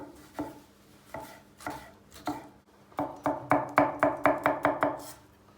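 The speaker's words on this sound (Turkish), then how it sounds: "Bir tane de domatesin yarısını doğruyorum." A knife chops tomato on a cutting board, slow single strokes at first, then a faster steady run of sharp chops.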